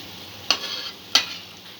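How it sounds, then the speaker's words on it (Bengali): Noodle pakora fritters, browned on both sides, sizzling in oil with two sharp clinks or stirring taps against the pan over a steady soft hiss. "বড়াগুলো দুদিকই হালকা ব্রাউন করে আমি ভেজে নিয়েছি"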